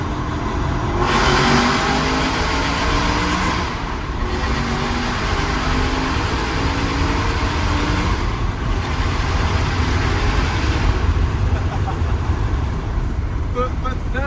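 An Aston Martin sports car with a lightened flywheel and a 400 brake horsepower remap accelerates and revs hard, loud and close, its engine note rising and falling through gear changes across a long continuous run.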